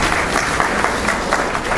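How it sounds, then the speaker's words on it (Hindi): An audience in a classroom-style talk on social issues claps together, loud and dense, a continuous burst of applause filling the short moment. "तालियां बजाओ।"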